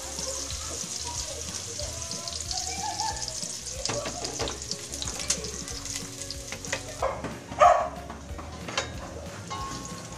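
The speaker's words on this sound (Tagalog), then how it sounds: "Gisa-gisa lang po natin. Haluin po para po hindi manikit o hindi madaling masunog ang ating bawang." Garlic sautéing in a hot pan, a continuous bright sizzle with scraping stirs and a sharper clatter near the end, no talking over it.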